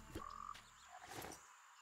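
A red frog in the video game Clash: Artifacts of Chaos gives a short, faint croak followed by a brief rasping call, heard alone and quiet.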